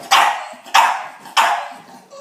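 A dog barks three times in a loud, close, evenly spaced sequence, each bark sharp and then fading.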